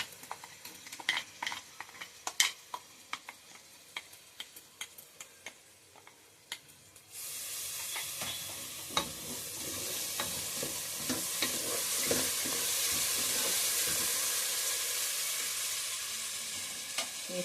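A tomato and tamarind paste for a curry goes into a hot pan: first scattered clinks and scrapes of stirring, then a sudden loud, steady sizzle that continues under repeated spoon scrapes.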